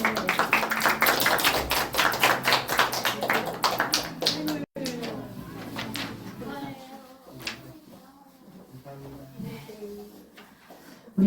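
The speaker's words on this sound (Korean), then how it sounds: "많이 축하해 주세요. 박수." A church congregation claps during Sunday worship after an infant baptism, with a burst of dense clapping over the first few seconds that thins out, and speech and organ-like tones continuing underneath.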